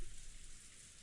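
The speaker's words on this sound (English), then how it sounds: "It had started raining" Rain in the video game Umineko When They Cry falls steadily on a surface, a soft, even hiss of drops that is faint and continuous, with no voices.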